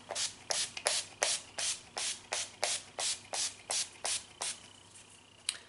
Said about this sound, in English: So you can let that setting spray just dry on its own